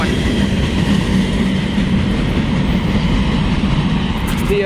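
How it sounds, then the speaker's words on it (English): A long freight train of loaded and empty tank cars rolls past close by in Bunkie, Louisiana, a steady loud rumble with faint wheel clatter running throughout. "we're gonna chase this train to 1178, my usual spot"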